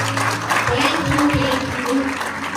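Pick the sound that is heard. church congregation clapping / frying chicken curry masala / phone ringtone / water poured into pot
church congregation clapping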